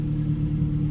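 A turbocharged Mazda car engine idles with a steady, low, droning hum and even rumble, close and unbroken for a brief moment.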